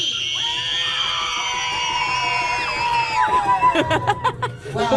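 Passengers riding the Polar Express train scream together, a loud, sustained group shriek of overlapping high voices that breaks into laughter and chatter.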